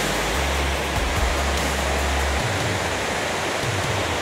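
Water rushes steadily down a waterfall in the Peak District, a loud, dense, unbroken roar with low wind rumble at the start and no voices.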